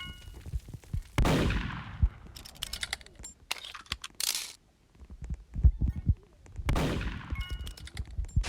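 Gunfire in the Roblox game Murder Mystery 2, a few sharp reports in separated bursts with ringing tails, set among clicks and other game effects, no speech.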